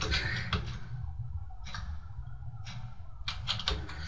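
Typing on a computer keyboard, heard close and fairly quiet as several quick bursts of clustered key clicks separated by short pauses, with no voices.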